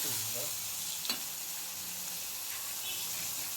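Dried seer fish sautéing in oil in a pan, a steady moderate sizzle with a brief clink of a spatula near the start.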